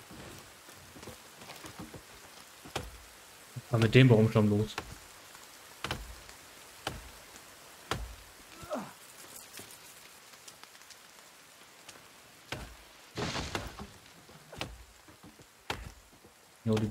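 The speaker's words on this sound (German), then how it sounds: "Geil, es regnet wieder." Rain falls in the survival video game The Forest, a faint steady patter with scattered sharp ticks and a couple of louder bursts, while someone speaks briefly in German.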